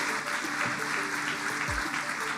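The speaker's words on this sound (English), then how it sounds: "Let's give him a round of applause" Applause from a city council meeting audience, a steady wash of clapping that holds at an even level for the whole stretch, with faint low thumps and murmur beneath.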